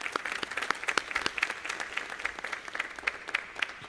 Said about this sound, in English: So just applause to all of you.